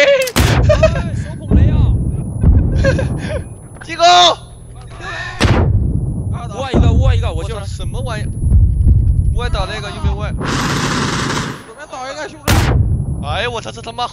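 Video game bombing zone under bombardment, with repeated heavy artillery blasts and bursts of gunfire close by, mixed with excited player chatter throughout.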